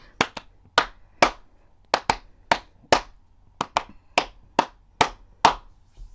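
Children in a kindergarten music class clap a rhythm together, crisp sharp claps in repeated short groups with brief pauses between phrases, close and clear with no talking over them.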